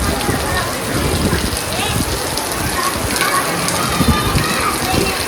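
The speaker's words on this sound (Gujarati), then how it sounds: "વરસાદ આવે ધોધમાર" Heavy rain pours down in a village, a dense, steady roar of drops hitting surfaces close by that holds at a constant loudness throughout, with no pauses or breaks.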